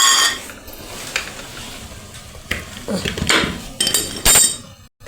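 A khichdi cooking pot is lifted off the stove with tongs, giving several sharp metallic clinks and scrapes spaced unevenly, close by, with a voice speaking over them.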